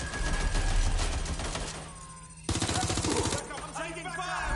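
Rapid bursts of automatic gunfire in the video game Watch Dogs Legion, loud and dense, briefly easing before another sharp volley with rattling shots and a voice beneath.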